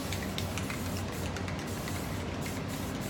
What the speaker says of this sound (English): we're going to spray some of that on here